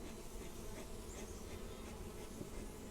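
Honey bees buzz in a dense, steady drone during a beehive check on a super hive, a close, continuous hum with no talk over it.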